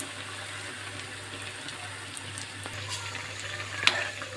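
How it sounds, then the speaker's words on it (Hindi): Besan-coated bread pakora with paneer sizzles in a pan of hot oil, a soft steady frying hiss holding low throughout with one brief sharper crackle near the end. "ये मेरा तेल गरम हो चुका है, मैं इसमें डाल दूंगी।"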